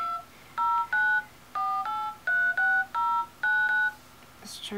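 Touch-tone DTMF beeps from the dialer pad of a Samsung Galaxy Tab 10.1 tablet, about ten short evenly paced tones grouped in bursts, clear and close over faint room hiss, ending with a brief rustle.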